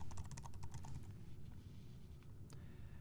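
Rapid keystrokes on a computer keyboard as a password is typed, a burst of close, crisp clicks for about a second, then sparser taps over a steady low background hum.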